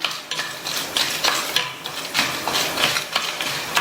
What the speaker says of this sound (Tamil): இதுல 2 காஞ்ச மிளகாவை சேர்த்து மிதமான தீயில வச்சு இந்த மிளகாவும்